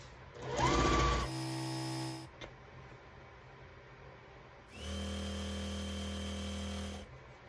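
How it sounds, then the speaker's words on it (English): Sewing machine stitches fabric strips together in two close, steady motorized whirring bursts separated by a short quiet pause. "I'm just going to sew it together and cut to the pieces that I need."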